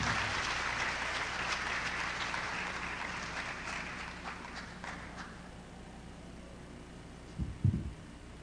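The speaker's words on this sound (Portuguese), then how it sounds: "vamos recebê-lo com uma salva de palmas." Applause from a lecture audience welcoming a speaker at Mackenzie, a dense clapping wash that thins and fades out, followed by a few faint handling thumps near the end.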